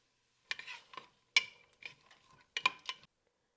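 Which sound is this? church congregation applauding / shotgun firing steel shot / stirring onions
stirring onions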